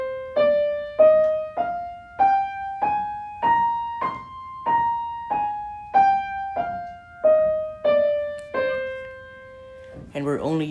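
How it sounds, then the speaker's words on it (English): Natural minor scale on a piano, about fifteen evenly spaced single notes climbing and then descending, each struck clearly and left to ring briefly, close and alone, with a short noise at the end. "So the natural minor scale, when played on a piano, would sound like this."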